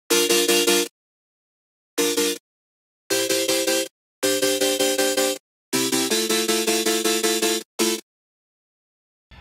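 Chord progression loop for future bass style EDM at 160 BPM, played as bright stacked synth chords in short rhythmic bursts separated by gaps of silence, loud and alone.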